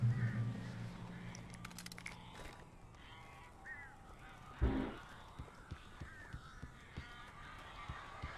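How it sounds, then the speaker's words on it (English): Crows caw in the video game Alan Wake, harsh calls that come and go over a low hum, followed by a sharp thump and a run of faint, scattered clicks and taps. "These birds are weird."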